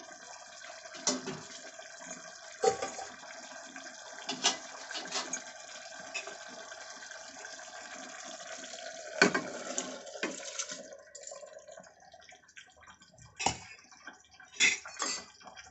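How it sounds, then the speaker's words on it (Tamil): Water pours and splashes into a cooking pot of boiling tomato rice, with intermittent metallic clinks of utensils nearby and no talking. "ஏற்கனவே ஒன்றேகால் கிளாஸ் வா தண்ணி வந்து நம்ம ஊற்றிட்டோம்"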